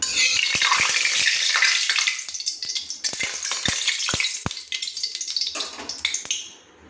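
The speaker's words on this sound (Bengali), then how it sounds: "ছেড়ে দিচ্ছি, তেলের উপর ছেড়ে দিচ্ছি ম্যারিনেট করা মাছগুলো।" Marinated silver carp pieces drop into hot mustard oil and fry with a loud, continuous crackling sizzle, while a few sharp clinks of utensil on pan punctuate it before it fades at the end.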